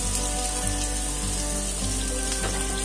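Rui fish hits hot mustard oil in a pan, giving a loud, dense, continuous sizzle and crackle that stays even throughout with no talking.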